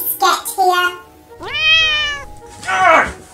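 Several cat meows in a comedy skit, a few drawn-out tonal cries close to the microphone, with a short stretch of talk near the start, likely voiced by a person imitating a cat.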